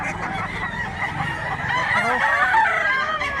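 A big bullstag rooster at a Cebu fowl market crows up close, one long cock-a-doodle-doo call over background clucks and crowd noise.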